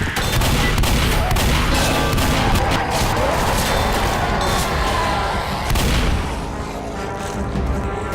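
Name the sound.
shotgun gunfire in Left 4 Dead video game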